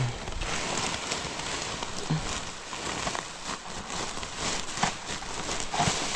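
Steady rain falls on a surface during roadside work on a damaged machine, a dense, continuous broadband hiss with scattered droplet patter, fairly close and unbroken throughout.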